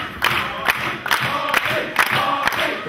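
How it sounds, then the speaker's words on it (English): Fans at a wrestling show cheer and chant in rhythmic bursts, with sharp claps and shouts coming about twice a second. The dense crowd noise sounds fairly close. "The crowd now getting behind Scurll as Allmark perhaps looking for a super kick"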